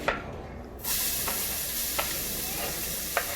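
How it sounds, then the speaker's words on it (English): Chopped onion drops into a hot pan and starts sizzling at medium heat, a quiet start that jumps to a steady broadband frying hiss with a few light utensil clicks, close and alone without talk. "So I'm gonna put the onion in here."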